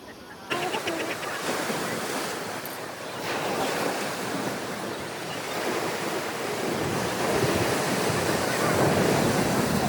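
Sea waves break and wash continuously on Digha beach at night as the tide rises, a loud, dense roar of surf with wind buffeting the microphone and slow swells in intensity.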